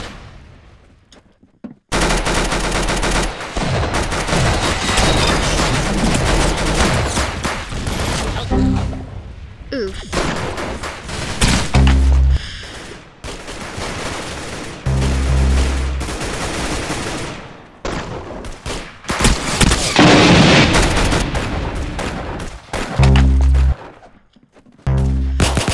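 Rapid bursts of crackling fire from a firecracker gun in the game Arsenal, loud and dense, coming in repeated volleys with short pauses, layered over music and effects.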